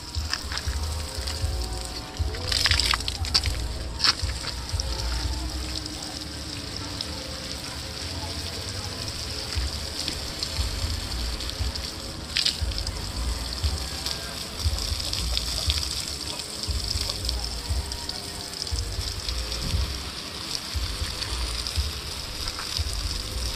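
Water flowing and sloshing steadily through an irrigation channel for garden plants, a continuous gushing trickle with low rumbling throughout, while people talk nearby.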